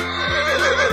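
A horse neighs loudly and close in one sustained whinny with a wavering pitch, with no voices, set among a run of animal sounds.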